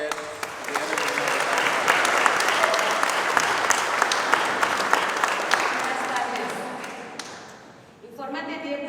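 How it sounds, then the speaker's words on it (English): An audience claps steadily for several seconds, a dense patter of many hands, and a voice begins speaking as the applause fades. "One more round of applause,"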